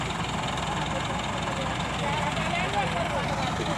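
A modified tractor engine idles at close range with a steady, continuous rumble, a dense low throb running unbroken beneath a broad mechanical hiss.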